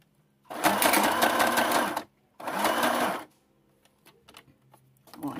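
A sewing machine stitches fabric for a mask holder in two loud, close bursts, the first about one and a half seconds and the second about a second. Faint clicks and handling noises follow.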